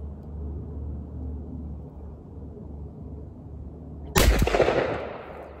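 A Montgomery Ward Western Field Hercules 12 gauge double-barrel shotgun fires a single loud, sharp blast outdoors after a few seconds of quiet ambience, followed by a brief rumbling echo that fades.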